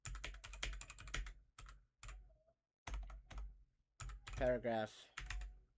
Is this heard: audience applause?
no